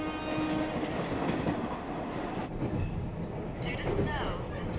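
A train runs on snowy rails with a steady, rumbling roll and faint rhythmic clatter, heard from inside the carriage, with a few brief higher squeaks toward the end.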